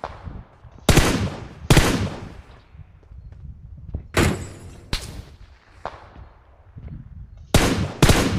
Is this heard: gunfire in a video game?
yes